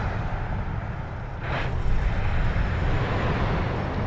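A Zibo Boeing 737-800 rolls along the taxiway in X-Plane 11, its engines a steady, loud low rumble that swells slightly partway through, with no talk.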